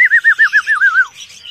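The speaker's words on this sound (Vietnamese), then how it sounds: "Chim mình bây giờ nó bị tồn lại nè, như cái lồng này nè." Young caged red-whiskered bulbuls on a bird farm. One loud, close bird gives a run of about eight quick, evenly spaced warbling chirps, and fainter calls continue behind it as it fades.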